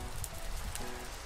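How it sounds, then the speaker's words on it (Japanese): Steady rainfall in a video game, a soft continuous patter of drops with a couple of faint brighter taps, quiet and alone. "また雨が降ってきた。"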